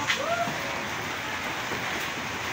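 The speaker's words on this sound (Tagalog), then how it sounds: "Ayun guys, ulan." Steady rain falls outdoors as a dense, even hiss that fills the whole stretch, with a brief faint chirp-like sound near the start and no clear talking.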